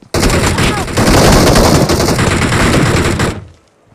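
Automatic gunfire from a BGMI battle royale match bursts in loud and near, dense rapid shots overlapping for about three seconds before cutting off abruptly.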